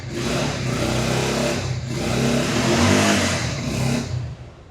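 A Bajaj Pulsar motorcycle engine revs up and down in a few rising surges, close and loud, with a rough mechanical rumble throughout.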